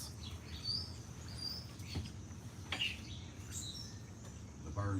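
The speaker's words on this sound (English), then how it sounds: "The birds are out wanting food." Birds outside looking for food give scattered high chirps and tweets, faint to moderate, with a few sharp clicks over a low background rumble.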